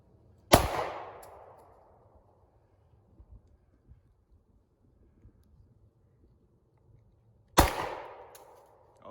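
Two loud, sharp pistol shots from a Glock or Taurus handgun, fired several seconds apart outdoors, each with a short echoing decay, and faint rustling in the quiet gap between them.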